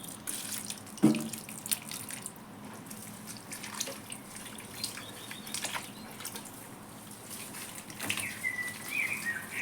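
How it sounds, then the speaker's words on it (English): Water poured onto potted wild berry plants on a terrace: a soft, continuous trickle and splash with occasional drips, quiet and close. "I'm going to give them some water"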